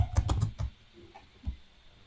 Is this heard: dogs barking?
no